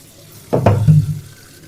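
Tap water runs briefly over kangkong as the greens are rinsed at a sink, a short splashing burst that rises, sputters and tapers away within about a second.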